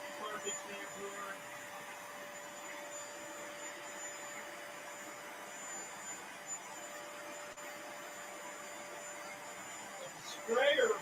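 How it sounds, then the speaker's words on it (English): A carpet shampooer vacuum with a broken sprayer runs continuously, a steady whining motor drone with a high tonal hum, close and even throughout, with a brief louder burst near the end. "Shampooer, perfect shampooer."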